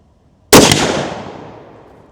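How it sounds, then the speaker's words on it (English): A single sharp rifle gunshot, the final round of a three-shot volley, cracks loudly and close, then its echo decays over more than a second into silence. "Last shot of this 3-round volley."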